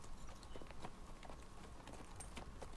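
Horse hooves clip-clop in a Walking Dead video game scene, a steady run of light, fairly close hoofbeats over faint background ambience.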